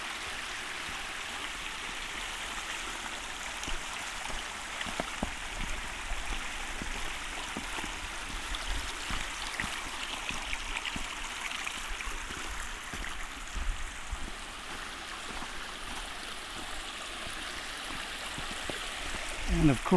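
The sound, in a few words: creek flowing beside a mountain trail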